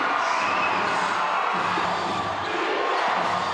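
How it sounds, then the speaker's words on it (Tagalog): A packed basketball arena crowd at a Philippine league game roars in a dense, steady wall of cheering and shouting, loud and constant throughout. "Crowd rocking it here inside the venue"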